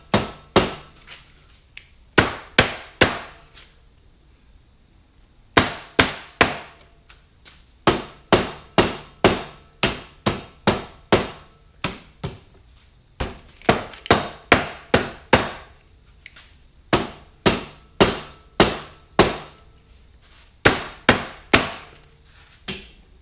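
A rubber mallet pounds on the cylinder head of a 1986 Honda Fourtrax 200SX in rapid runs of sharp, close knocks, dozens of blows in clusters separated by brief pauses, with no voices.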